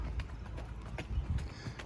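A donkey's hooves clip-clop steadily along a road beside sugarcane rails, close and continuous over low rumbling background noise.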